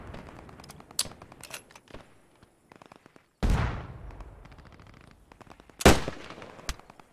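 Gunfire and tank shooting in the WWII video game Post Scriptum: scattered rifle cracks and bursts rattle close, broken by two heavy booming blasts that roll off into long echoing tails.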